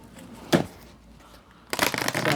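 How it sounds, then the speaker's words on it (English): Tarot cards being shuffled during a love reading: one short riffle burst, then a longer, louder run of brisk riffling toward the end, close and clear with no talking. "I'll shuffle these real quick."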